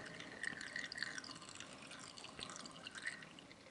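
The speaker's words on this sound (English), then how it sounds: "here's the mash tun where we're trying to keep this piece semi-elevated but flowing gently" Wort trickles gently through a mash tun distributor while brewing a stout, a soft continuous flow with scattered drips, faint and close, with no voices.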